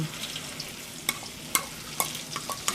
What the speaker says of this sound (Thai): ผัดเครื่องอีกทีนะคะ มันจะได้หอม